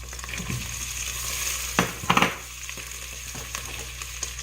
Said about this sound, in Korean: 이제 또 열심히 볶아줍니다